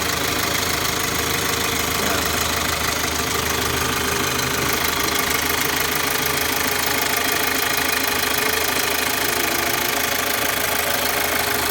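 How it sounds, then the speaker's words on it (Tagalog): A running car engine with a worn timing chain: constant rapid metallic ticking and knocking under a dense mechanical hum, steady and close throughout. "mapapansin nyo oh, malakas ang lagotak dito sa side na to"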